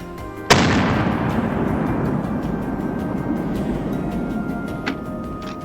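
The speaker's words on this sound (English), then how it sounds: "A cold shot rang out, striking it dead on the spot." A single loud rifle shot cracks out in a forest, followed by a long rumbling echo that slowly decays across several seconds, with a faint second knock near the end.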